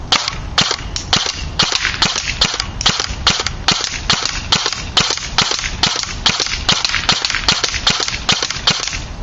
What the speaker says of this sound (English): First, we'll be on semi-automatic, and watch how high the rate of fire on this thing is with a light pulley battery.